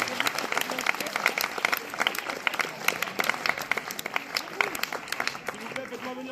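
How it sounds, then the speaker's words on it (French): An audience at an amateur wrestling show in Voreppe claps for a wrestler with dense, lively applause throughout, mixed with crowd voices and shouts. "on peut l'applaudir"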